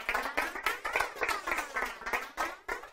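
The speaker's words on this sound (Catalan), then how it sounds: "Un fort aplaudiment, molt bé" Clapping from a small group follows a school quiz round, loud and close, coming in uneven bursts with no voices.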